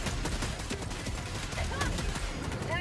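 Gunfire in Helldivers 2 crackling in dense, rapid bursts against a low rumbling battle din, with scattered sharp transients and a voice talking faintly underneath.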